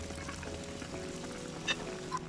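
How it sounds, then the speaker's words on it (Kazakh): Round baursak dough balls fry in vegetable oil with a quiet, continuous sizzle and a couple of brief pops near the end. "ақырын салып қуырамыз."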